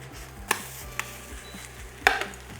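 A veggie Spanish omelette is tossed in a single pan, giving a couple of sharp metallic clacks and a softer thud over steady low sizzling, with no one speaking.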